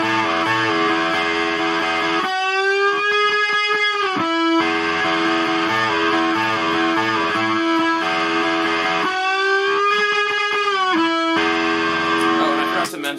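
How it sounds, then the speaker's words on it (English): Electric guitar through distortion playing a riff with string bends, loud sustained chords alternating with bent single-note lines that slide up and settle, held ringing to the end. "So with the distortion that sounds like..."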